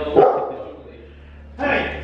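A dog's sharp bark sounds nearby, with a second bark-like burst about a second and a half later, over low background noise.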